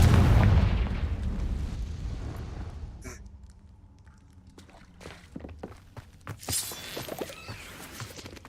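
A Confringo fire spell detonates in the video game Hogwarts Legacy, a loud, deep boom that rumbles and fades over a few seconds, followed by quieter footsteps and scattered light thuds.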